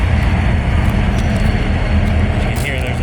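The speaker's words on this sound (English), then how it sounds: "You can hear there's an active train rolling past." An active train rolling past near Altoona, Pennsylvania, a loud continuous low rumble and clatter of rail cars close by, with a brief hiss near the end.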